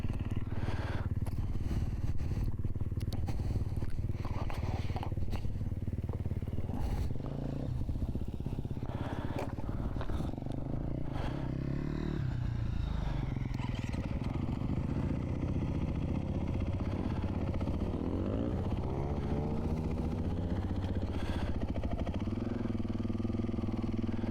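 Dirt bike engine running close by, with a buzzy idle and rising and falling revs over about twenty-four seconds, plus occasional clatter and scraping, with no talk over it.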